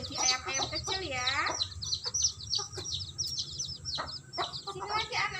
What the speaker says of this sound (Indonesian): Ini telur yang udah menetas menjadi ayam-ayam kecil ya.